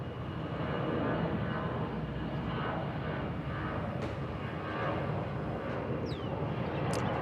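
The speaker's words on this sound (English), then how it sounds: "Qatar A380 on the push there for the reposition." Qatar Airways Airbus A380 pushed back for repositioning at Bangkok Suvarnabhumi Airport, heard as a steady, loud broadband engine rumble and roar that continues without a break and without voices.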